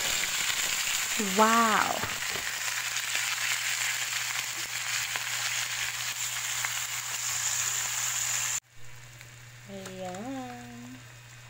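Garlic frying in a pan while cooking pusit, a steady sizzle running throughout with a brief exclaiming voice and some whistly tones over it.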